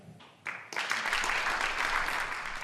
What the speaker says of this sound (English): Applause there at that royal banquet yesterday in Berlin